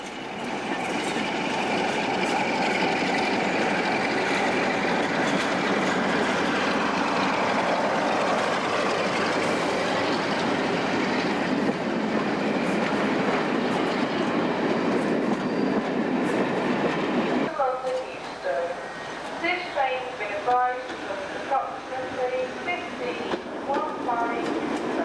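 A Class 147 diesel multiple unit on a down service from London to Shrewsbury rumbles loudly past, then fades to rhythmic clickety-clack of wheels over rail joints, with a person speaking briefly nearby.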